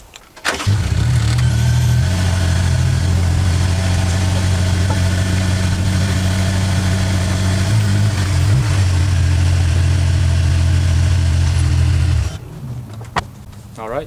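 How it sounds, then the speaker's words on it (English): A Honda S2000 engine cranks and fires, then settles into a loud, steady idle close by for about twelve seconds before shutting off abruptly. "Now I'm going to get back in the car and start it up and let it run."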